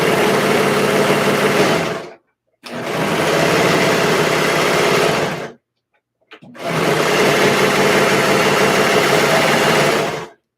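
Brother Lock 1034DX serger stitching the skirt of a baby dress, a loud, steady high-speed mechanical whir running in three long bursts separated by short silent pauses, close up with no voices.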